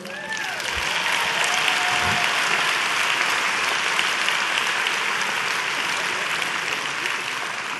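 Audience applause and cheering fill a dinner hall at an awards ceremony, a steady dense clapping sustained for the full length with a few whoops near the start and no talking.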